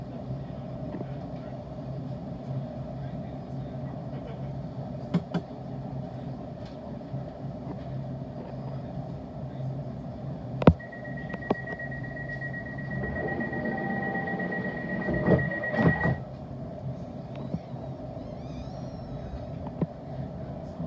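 A London Overground train runs towards Enfield Town, a steady low rumble of the carriage interior throughout, with a sustained tonal whine rising midway and a few sharp clunks, under faint distant talk.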